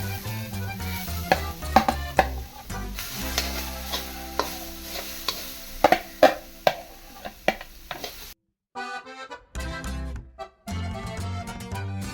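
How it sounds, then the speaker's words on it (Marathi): Grated coconut roasts in a pan for a coastal crab curry, with repeated loud scraping stir strokes over a soft frying sizzle, close by, then a few brief stops near the end. "सोय भाजून घाल बरी."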